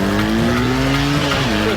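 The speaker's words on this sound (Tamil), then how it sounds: "நீ ரோட்டை பார்த்து வண்டியை வேகமா ஓட்டு." A cartoon vehicle speeds away fast, a loud, steady engine whine that climbs slightly in pitch as it races without a break.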